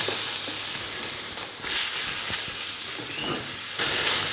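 Meat pieces sizzling in a little melted butter in a pot, a steady close hiss with bursts of stronger frying as the meat settles, no voices over it.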